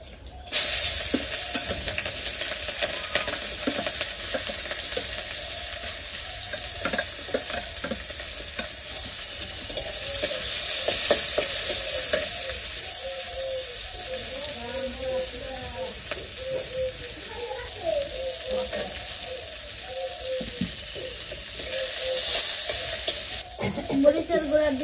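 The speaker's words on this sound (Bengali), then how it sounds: "জিরা ফোড়ন দিয়ে দিছি তখন পেঁয়াজ কাঁচামরিচ দিয়ে দেই" Chopped onion and green chili sizzle in hot oil after cumin seeds are tempered, a steady frying hiss with occasional stirring scrapes and clinks over about twenty-five seconds, near and moderately loud.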